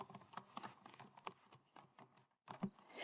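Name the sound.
typing on a computer keyboard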